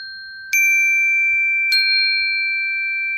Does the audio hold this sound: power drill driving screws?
no